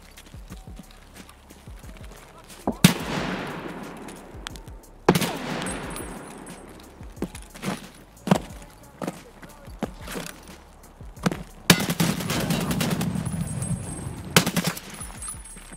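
Shotgun blasts in the Escape from Tarkov game: a few sharp reports with long decaying echoes, scattered clicks and footsteps between them, and a dense burst of rapid gunfire near the end.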